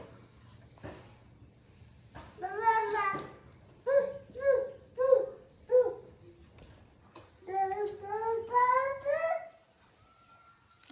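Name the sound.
dog barking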